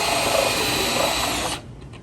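Power drill boring a hole through a wooden deck post, a loud, steady whine for about a second and a half before it stops abruptly, leaving faint rattling.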